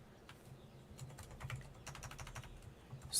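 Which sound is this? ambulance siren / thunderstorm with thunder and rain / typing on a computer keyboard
typing on a computer keyboard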